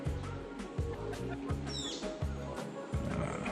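A Montezuma oropendola gives a liquid, gurgling call that sweeps upward, over a busy background of low repeated calls and ambient noise in drizzly weather at Arenal, Costa Rica.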